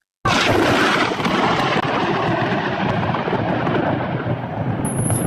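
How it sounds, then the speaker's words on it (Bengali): Thunder rolls in a long, heavy rumble that fills the whole clip, steady and close, with rain-like noise underneath and no voices. "আকাশে মেঘ ডাকা শুরু"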